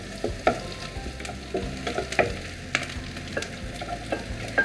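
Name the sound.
stirring and frying gobi manchurian in a pan on high flame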